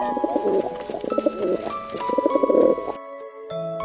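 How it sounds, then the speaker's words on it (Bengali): A pigeon coos in soft repeated bursts over a bright, tinkling musical backing, with a short pause near the end before the sound resumes. "পায়রা ডাকে বাকুম বাকুম।"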